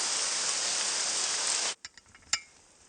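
Steady, dense rain hiss fills the first part of a film scene, then cuts off abruptly and leaves a quiet stretch with a few faint knocks and shuffles.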